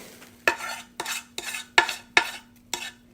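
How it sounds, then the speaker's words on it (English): A metal spoon scrapes and stirs a peanut butter mixture in a new pot for scotcheroos, with six or seven distinct rhythmic strokes, close and clear, and no one talking. "I'm really not happy with myself for using a metal spoon on my new pots"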